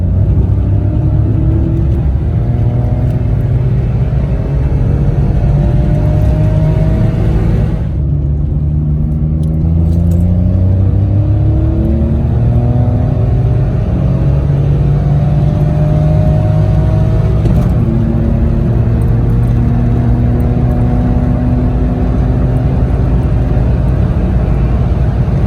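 Citroen C1 accelerating hard in second gear from 30 mph, a loud in-cabin engine drone rising steadily in pitch, easing briefly once before climbing again, with constant road rumble underneath.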